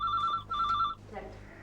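Telephone ringing indoors, two clear electronic trill bursts in quick succession, followed by a voice starting to speak.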